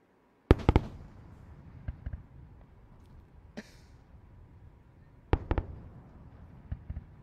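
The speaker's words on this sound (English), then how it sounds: "We certainly heard those sonic booms here at the KSC press site" Sharp double booms from returning SpaceX Falcon Heavy rocket boosters crack out at a distance at Kennedy Space Center, two pairs several seconds apart, with quieter thuds and background murmur in between.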